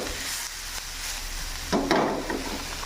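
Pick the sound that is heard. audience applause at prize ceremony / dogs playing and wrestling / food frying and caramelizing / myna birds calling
food frying and caramelizing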